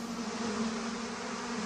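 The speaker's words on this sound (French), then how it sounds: "Au printemps, l'air vibre d'abeilles mâles." Male bees fly in spring air, giving a steady, close insect buzz that holds one pitch and runs on alone for under two seconds.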